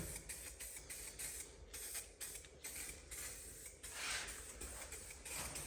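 A spray paint can hisses as markings are painted onto a Willys jeep, giving close, steady bursts of airy spraying with short breaks between them and no speech.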